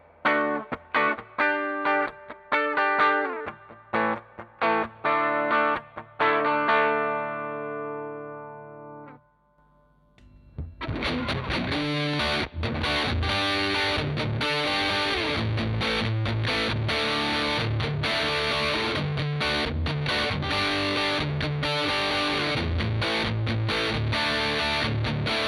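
Electric guitar through a Fender Hammertone Distortion analog pedal: picked single notes and chords first, then after a short pause a thick, sustained high-gain distorted wall of chords, close and loud.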